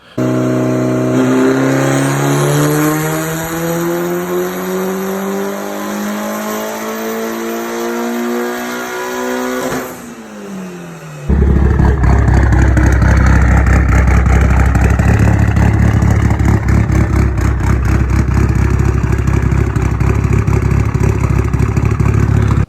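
A Mitsubishi Lancer Evolution 9 engine with cams and a titanium exhaust winds up in a long rising rev, drops off, then roars into a loud, rough, rumbling idle with deep exhaust burble.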